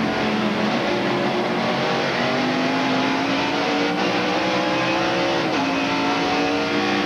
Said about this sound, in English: Now he downshifts.